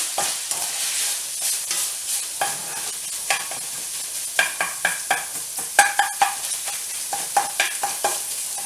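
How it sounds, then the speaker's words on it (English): Sausage cooking in a pan on medium heat, a steady close sizzle and crackle with repeated stirring or spatula clicks throughout, no talking. "Sausage is cooking pretty quick."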